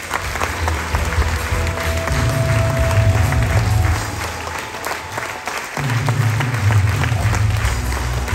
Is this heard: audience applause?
yes